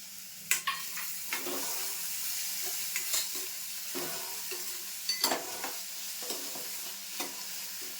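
Soaked ingredient dropped into hot tempering oil for a rustic ridge gourd curry, giving a soft, steady crackling sizzle with several sharp spatters and stirring scrapes, fairly quiet and without talk.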